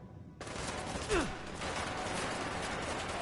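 NCR army soldiers open fire in the video game Fallout 4, a sudden wall of dense overlapping gunfire that starts abruptly and rattles on steadily, with a brief whooshing swell early on and no talk.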